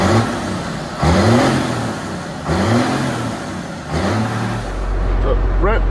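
A classic International tractor engine revs close by in three rising surges at a student drive-your-tractor-to-school day parade, then settles into a steady run as a voice begins to speak at the end.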